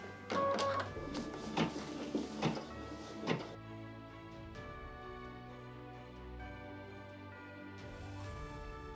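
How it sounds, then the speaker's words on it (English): An embroidery machine stitching a brown satin outline, with a few sharp mechanical thumps at first, then a steady whirring hum from the machine running up close. "For machine step 10, we're going to switch threads to a brown color to do the satin outline for the windows."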